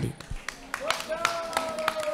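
An audience at a Nepali dohori singing show in a studio claps for a performer. A brief burst of clapping is heard under a voice, with a faint tone running beneath.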